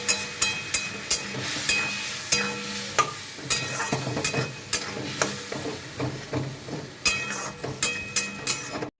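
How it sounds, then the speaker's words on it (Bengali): Potatoes and spices for a chhana curry are stirred and fried in a pan, giving a constant sizzle broken by repeated scraping, clattering strokes of a spatula against the metal, all close and without talk. "এই আলুর সাথে মশলাটাকে ভালো করে কষিয়ে নেবো।"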